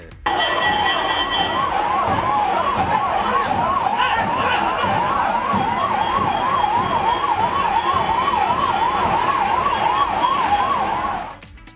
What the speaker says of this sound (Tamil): சேலம் 4 ரோடு பகுதியில் ஆம்புலன்ஸ் வாகனம் வருவதை கண்ட உதயநிதி ஸ்டாலின் தனது வாகனத்தை சாலையின் ஓரத்தில் நிறுத்த அறிவுறுத்தினார்